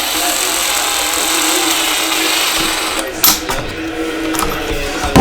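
Power tool driving a screw into a Traxxas E-Revo 2.0 RC car A-arm, a steady high-pitched whirring drone held for several seconds, close and fairly loud, with a few short bumps near the end.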